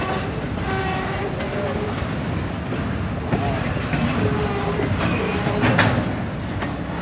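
A CSX intermodal freight train rolls past with a MAC locomotive in the lead, giving a steady close rumble of wheels and cars with faint rail squeal and some background voices.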